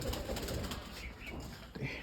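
Soft pigeon cooing nearby, low and murmuring, with faint background noise.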